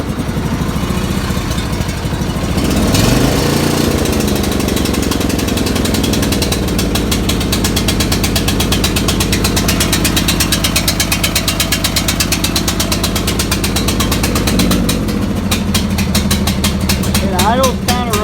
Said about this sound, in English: Idle's kind of rough, but once you have it, especially when it's cold, but once you have it running for a while, it'll smooth out.